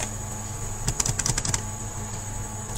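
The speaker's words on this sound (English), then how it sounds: "we can create spaces by pressing the tab button in between" A computer keyboard being typed on in Microsoft Word 2013, a quick cluster of about eight crisp key taps lasting half a second, close and moderately loud over a steady low hum, with no talking.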